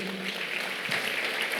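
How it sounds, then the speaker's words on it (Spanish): A church congregation applauds during a Spanish-language sermon. The faint, diffuse clapping blends into a steady wash of sound heard from a distance. "Dale un aplauso al Señor."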